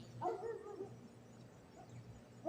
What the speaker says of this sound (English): Hear the dogs?